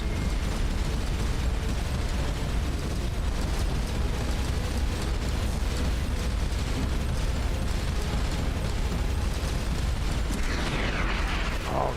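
Missile explosions and battle noise in the space game Starcom: Unknown Space, a dense, continuous rumbling roar with layered booms and mechanical hum, loud and unbroken with no distinct pauses.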